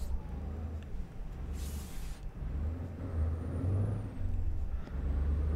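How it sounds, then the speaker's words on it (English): A heavy truck in Euro Truck Simulator 2 brakes hard, a sharp hiss of air brakes bursting over a steady low engine rumble and road noise, with no speech. "there's no way this truck would have stopped in that time."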